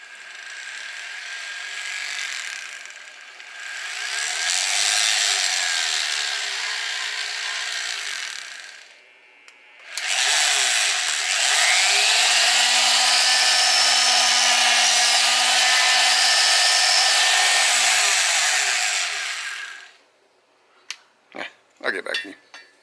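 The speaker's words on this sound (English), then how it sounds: "And basically I'm just going to go in and grind that down." A Harbor Freight grinder cuts down the child safety lock on a Bernz-O-Matic ST2200T torch, a loud close whine in two long sustained runs with a brief gap, then a few scraping clicks as it stops.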